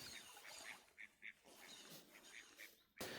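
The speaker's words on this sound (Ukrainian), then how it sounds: "Ці які вони сміливі, ці качки." Several ducks quack in short bursts, faint and a little distant, over a steady outdoor background at an autumn perch-fishing spot by the shore.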